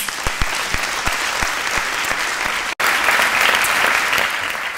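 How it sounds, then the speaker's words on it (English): An audience at an employee recognition celebration applauds a high school choir, with strong, loud, sustained clapping that includes a few sharp, distinct claps early on and continues with one brief dropout partway through. "How about a round of applause?"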